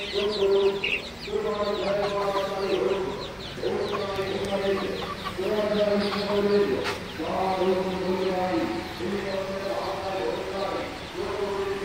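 Silkie hens on a small farm cluck in steady, overlapping bursts close by, with someone speaking over them throughout.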